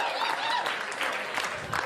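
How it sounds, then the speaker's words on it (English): Comedy club crowd at Gotham Comedy Club bursts into dense applause mixed with cheers and chatter, a continuous roomful of clapping held at an even moderate level. "round of applause"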